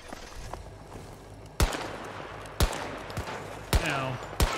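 Gunfire in the video game Battlefield 2042: four sharp, loud shots spaced about a second apart crack over a low, humming game background, with a softer pop between them.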